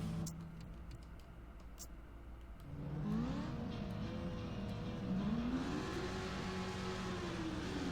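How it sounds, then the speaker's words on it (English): ATV engines start up and rev together in the racing game ATV Offroad Fury 4, a rising, overlapping drone of motors after quieter ticking, staying loud and steady. "You can hear everyone else driving their engines as they start."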